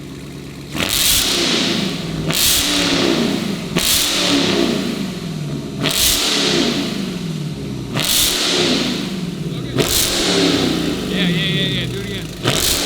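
A Dodge Challenger fitted with a new loud exhaust revs repeatedly, six or seven sharp blips spaced about two seconds apart over a steady rumbling idle, close and loud, with brief talk between revs.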